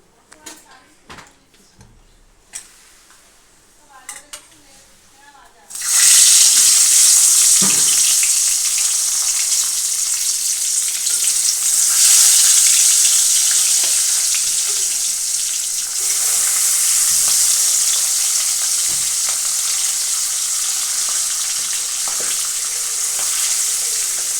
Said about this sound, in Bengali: তেলটা গরম হয়ে গেছে, এর মধ্যে মাছটা এবার একে একে দিয়ে দেবো